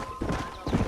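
Horse hooves clip-clop in a quick pair of strikes in the video game Red Dead Redemption, close and clear, with a game-like character.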